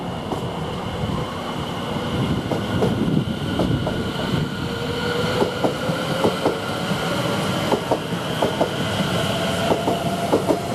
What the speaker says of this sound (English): this service now departing with the 1350 from Ipswich to London Liverpool Street